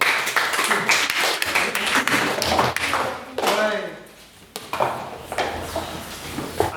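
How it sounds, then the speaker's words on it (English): Audience at an annual general meeting claps in uneven bursts, scattered individual claps and thumps rather than a full roar, fading briefly mid-way before picking up again, with talk mixed in. "Applaud for him."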